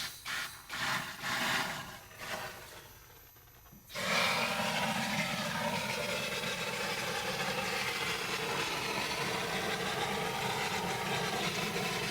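Aircrete foam generator cranked up to 50 psi: after a few seconds of intermittent hissy bursts and a brief lull, a loud steady rushing roar of air and foam kicks in and holds continuously, close by with no talk.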